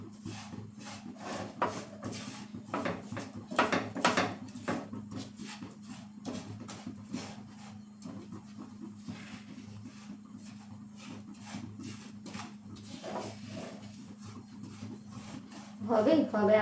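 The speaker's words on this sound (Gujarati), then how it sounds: "જો કોઈ લમ્સ હોય તો આપણે ચમચાની મદદથી આ રીતે કરી લેશું, જેથી જે લમ્સ હોય તે દાળમાં બરાબર મિક્સ થઈ જાય" A spoon stirs and presses out lumps in dry Gujarati dal premix in a pan, making a steady, rhythmic scraping and rubbing over a low background hum, with a louder clatter near the end.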